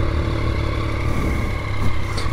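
A Yamaha MT-09 motorcycle with its stock exhaust rumbles at a steady idle nearby, a loud, even low drone with no speech.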